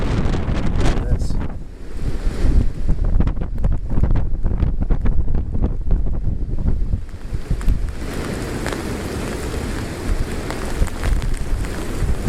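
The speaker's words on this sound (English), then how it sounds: "It's windy down here on the ground," Strong wind roars and buffets the microphone continuously, with gusty low rumbling throughout and no clear talking.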